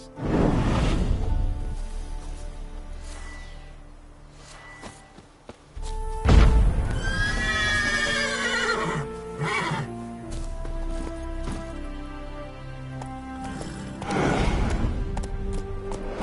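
A horse in a video game gives a loud, shrill whinny in the middle, framed by hoof thuds and snorts, with a soft musical bed behind.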